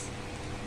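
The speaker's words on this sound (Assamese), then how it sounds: "এয়া তৰকাৰী উতলিছে" Steady bubbling hiss of an Assamese borali fish curry boiling in a pot on the stove, a dense, continuous simmer without pauses, close by.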